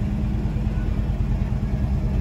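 A 1968 Buick GS 400 running under load, its engine giving a steady low rumble with mild fluctuation, heard from inside the car at moderate level and without any speech.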